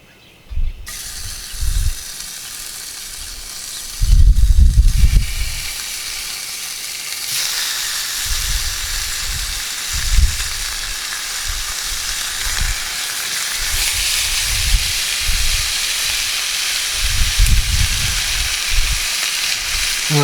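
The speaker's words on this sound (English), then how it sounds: "I got a half a pound of bacon cut in half. Throw that into my Lodge 10-inch skillet." Half a pound of halved bacon strips sizzling in a Lodge 10-inch cast iron skillet, a loud steady crackling hiss with occasional clunks and scrapes of the pan, no voices.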